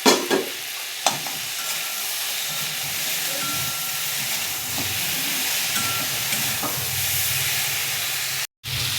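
Loud, steady sizzle of ground salt, turmeric, coriander and cumin frying with pointed gourd in a pan, a continuous close hiss with occasional scraping stirs throughout.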